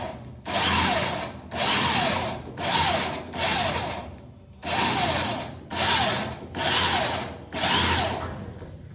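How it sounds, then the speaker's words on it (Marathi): A power drill bores holes into a wall beside a lift shaft for mounting a cable bracket, loud whining bursts repeating about once a second with short gaps between each push. "आता लिफ्टच्या गायपाशी आता होल मारते बघा. आता ब्रॅकेट लावासाठी होल मार लागले."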